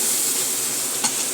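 Cooked food is stirred in a pan just after the lid comes off, with a steady, close sizzling hiss and a single brief scrape of a utensil near the end.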